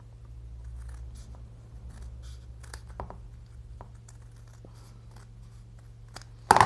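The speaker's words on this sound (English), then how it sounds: "Cut these spare bits off. Going to trim along the top." Scissors snip through the paper edges of a handmade corner bookmark, with a few faint separate cuts over a quiet background hum and a louder rustle at the end.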